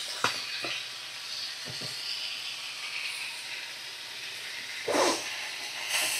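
Spices with Kashmiri red chili powder fry in a pan for a fish dish, giving a soft steady sizzle and hiss broken by a few sharp clicks and louder scraping stirs of a spoon against the pan.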